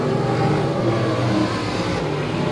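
Race cars roar around an oval track during a 20-lap feature event, a loud sustained engine drone with revving pitch that stays close and dense, then eases slightly as the pack moves on.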